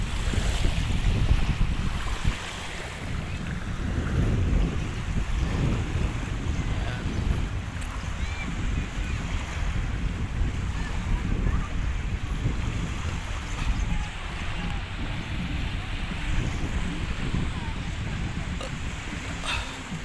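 Sea waves at Manila Bay during high tide, with floating plywood on choppy water, roar in a steady close wash mixed with heavy wind buffeting the microphone, continuous and loud without speech.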